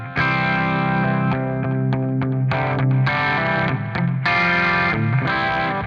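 Electric guitar through the clean channel of a REVV G20 tube amp plays a loud, close rhythmic part of ringing chords and short strummed stabs, with sustained notes between the accents and no talking.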